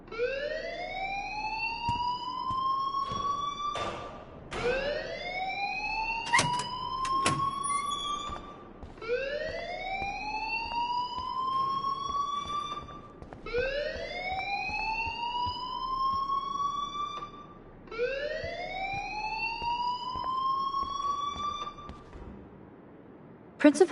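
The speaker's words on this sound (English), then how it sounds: "please turn off that alarm since that's your job" Alarm ringing in the video game Life Is Strange Remastered, a rising electronic whoop repeating about five times at steady intervals, fairly loud, with brief clatters between.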